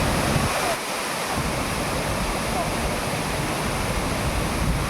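Gumnasal Phaslang Waterfall in Amri, West Karbi Anglong, pours with a dense, continuous broadband roar that is loud and unbroken for the whole stretch.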